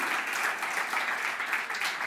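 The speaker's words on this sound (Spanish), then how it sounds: "Denle un aplauso a Cristo, el Señor" Dense, steady applause from a church congregation, a continuous wash of many hands clapping together at a sustained level.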